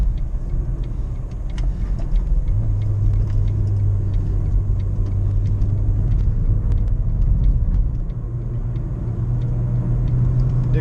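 A 2013 Fiat Palio Essence 1.6 16V with manual gearbox drives steadily on the road, its engine giving a constant mid-pitched drone and rumble heard from inside the cabin with no talk.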